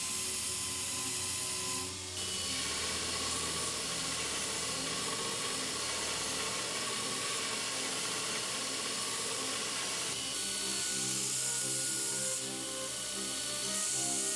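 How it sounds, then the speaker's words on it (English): A belt sander with a rubber contact wheel grinds steadily against forge-welded steel to flatten its surface, a continuous loud abrasive hiss and whine with a brief dip near the start and a slight shift partway through. "am using the rubber wheel on my belt sander to create a completely flat surface"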